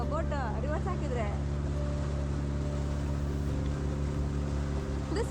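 A motorboat engine on a boat at Munro Island, Kerala drones steadily and close, a low constant hum while it is shifted into reverse, with a person talking over it at the start.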